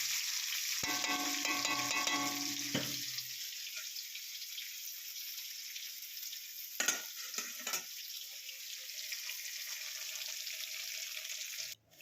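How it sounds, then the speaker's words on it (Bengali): Paneer pieces, rinsed in warm water, fry in oil as a close sizzle with stirring at first, then settle into a softer steady hiss broken by a brief clatter of utensils; no speech. "পনিরগুলোকে একটু গরম জলে ধুয়ে হালকা করে তেলে এপিট ওপিট করে একটু ভেজে নেব"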